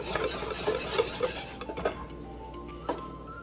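Shrimp burger mixture is stirred in a bowl, a close scraping and rubbing with light clinks of utensil against the dish, busier at first and then thinning to a few scattered taps.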